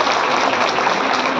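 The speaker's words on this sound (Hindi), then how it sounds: "जोरदार तालियों से स्वागत करिएगा।" An audience at a Vishwakarma community gathering breaks into steady, dense applause, loud and close, a continuous wash of clapping with no pauses throughout.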